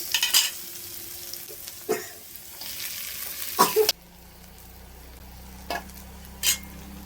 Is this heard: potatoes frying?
yes